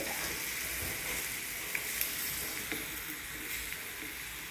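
Crab pieces sizzle and fry steadily in a pan of curry masala, with a few faint clinks and scrapes of mixing over the constant hiss.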